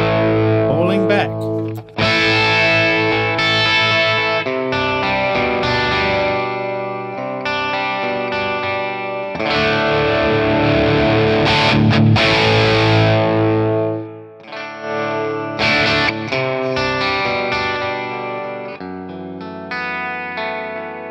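An electric guitar runs through a Friedman Plex amp model, playing distorted, sustained chords and riffs with some chorus and echo. It stays loud and continuous with brief pauses between phrases, and a voice speaks faintly underneath.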